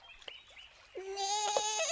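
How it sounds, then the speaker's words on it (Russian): A goat in an animated cartoon bleats in a wavering, drawn-out cry, close by and fairly loud, after a brief quieter stretch of faint background noise. "Ой, глянь-ка, коза."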